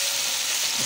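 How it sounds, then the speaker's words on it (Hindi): Cut radish and potatoes hiss in hot frying masala with a dense, steady sizzle, close and loud, lasting under a second with no voices. "मसाला बिल्कुल तैयार हो चुका है, और अब इसमें मैं सब्ज़ी जो काट के रखी है मूली और आलू वो डाल दूँगी।"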